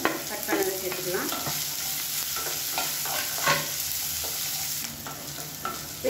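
Green chilies and small shallots frying in hot oil, stirred now and then: a continuous close sizzle with scattered spoon scrapes and light clicks, no voices.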